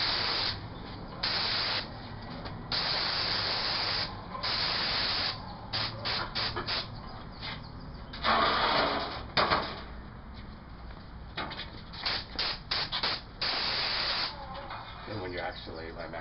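An airless paint sprayer with a 515 reversible tip, pressurized to 2200 psi, lays accent colour on stucco trim in repeated sharp hissing bursts of varying length, each starting and stopping abruptly.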